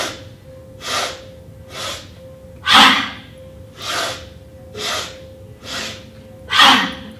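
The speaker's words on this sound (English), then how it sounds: "Exhale, bow down, blow it out. Inhale, let's reach up, sniff." One person does a morning breathing exercise with arm swings, making about eight sharp nasal sniffs and forceful blown-out exhales at a steady rhythm, close and clear over a faint constant hum.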